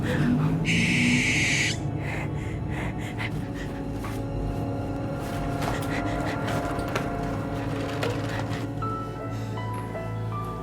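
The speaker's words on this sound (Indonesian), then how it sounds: "Ada suara burung. Tapi aku nggak ngeliat burung." A bird gives a short, high call near the start, then steady low rumbling background noise carries on with no further calls.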